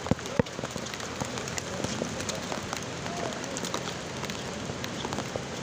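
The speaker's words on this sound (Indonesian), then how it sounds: "Hujannya tergolong deras banget ini" Heavy rain pours steadily on the Bondowoso–Situbondo road at Arak-Arak during a storm with strong wind, a dense close wash of drops under scattered talk, with a sharp knock near the start.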